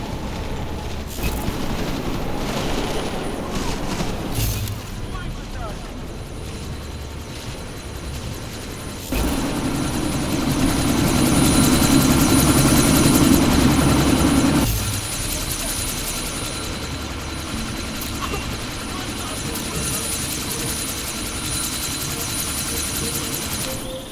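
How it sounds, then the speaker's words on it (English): A helicopter in Deus Ex Mankind Divided spools up to take off, its engine and rotor wash rising to a louder broadband roar for several seconds mid-scene amid game ambience, then dropping back to a lower hum. "That chopper's about to take off."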